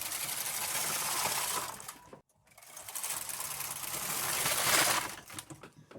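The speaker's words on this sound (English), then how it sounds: "now I'm regular knitting my 2x1 ribbon" A knitting machine works 2x1 ribbing, its carriage sliding across in a loud, steady mechanical whir with clattering, broken by a brief pause before another long pass.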